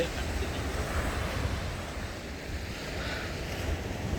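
Sea waves washing against rocks at a Pondicherry beach, a continuous surf roar mixed with wind buffeting the microphone, steady and fairly close.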